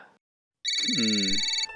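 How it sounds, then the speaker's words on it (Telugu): A telephone rings loudly and steadily for about a second after a short pause, the electronic ringtone filling the space alone after a brief snatch of voice at the start. "ఇది ఫోన్ చేస్తుందేంటి?"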